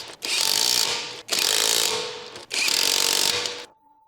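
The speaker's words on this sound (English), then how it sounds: "Use a 19mm deep socket with an electric impact wrench to tighten the lug nuts." Electric impact wrench with a 19mm deep socket tightening lug nuts on a Ford Escape, firing three loud, close, sustained rattling bursts separated by brief pauses, then stopping.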